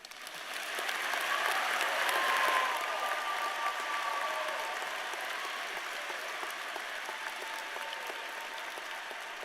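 Audience applause for Honors College students at the JMU 2024 commencement ceremony: a dense, steady wash of clapping from a large crowd in a big hall that swells early and then holds, sustained throughout.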